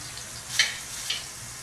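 Onions frying in a pan for Egyptian koshari, a soft steady sizzle with two brief sharper crackles or stirs, fairly quiet and without talk.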